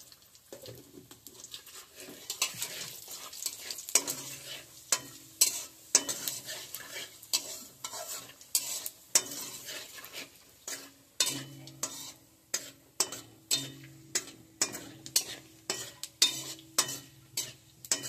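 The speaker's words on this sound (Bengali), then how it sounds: "আমি আরেকটু তেল দিয়ে দিচ্ছি, দিয়ে দিচ্ছি 2টো তেজপাতা, 2টো শুকনো লঙ্কা, 3টে এলাচ আর কটা জিরে।" Bay leaves, dried red chillies, cardamom and cumin sizzle in hot oil while a utensil scrapes the pan in a steady rhythm of repeated stirring strokes over a quiet, crackling fry.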